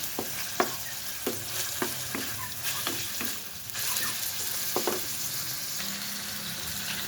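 Pancit canton and sotanghon noodles with shrimp sauté in a pan, giving a steady close sizzle broken by regular scraping strokes of the stirring utensil, with no talking.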